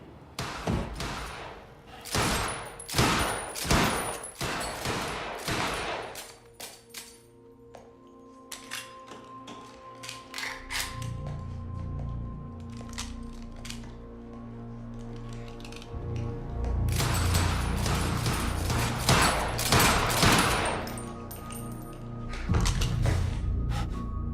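Gunfire in Quantum Break comes as bursts of sharp, rapid cracks in two clusters, separated by a stretch of low mechanical rumble and clanking, loud and close.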